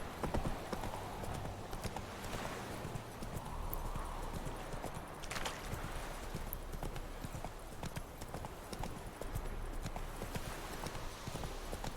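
Geralt's horse Roach gallops in The Witcher 3, quick repeated hoof clip-clops in a steady running rhythm with a brief whinny, close and fairly faint under game ambience.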